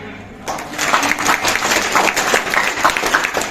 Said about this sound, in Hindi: आप लोग से गुजारिश करता हूँ कि जोर जोर से तालियां बजाएं।